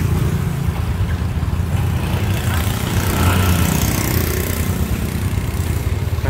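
A warmed-up motorcycle engine idles steadily nearby, a continuous low rumbling chug at even loudness with no clear speech over it.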